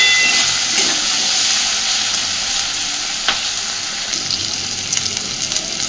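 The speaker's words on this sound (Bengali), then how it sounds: "দেখুন আলুটা বেশ সুন্দর ভাজা হয়ে এসেছে" Potatoes fry loudly in a pan, giving a steady, close, dense sizzle with an occasional stirring clack near the end.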